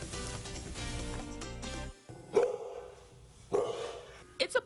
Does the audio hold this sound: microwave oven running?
no